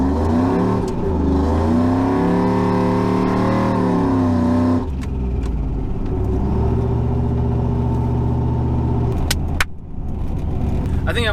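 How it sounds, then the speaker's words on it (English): A supercharged shop truck engine revs hard and pulls away, its loud rumbling tone climbing and falling in pitch through repeated throttle swells before settling into a steadier roar. "Last turn with the supercharged truck."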